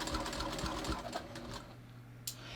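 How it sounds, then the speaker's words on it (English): A sewing machine stitches a half-inch seam while hemming jeans, running steadily up close with a rapid, even needle rhythm that eases off toward the end, followed by a brief sharp click. "So I'm just going to start stitching."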